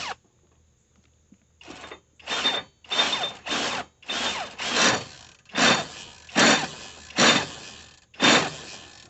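A power tool on a socket tightens a bolt holding a blade, sounding in about nine short whirring bursts separated by brief pauses, close and fairly loud.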